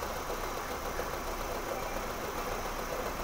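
A misfiring 1.6 litre petrol 16-valve car engine idles roughly and steadily with a knocking, uneven note, heard alone and close.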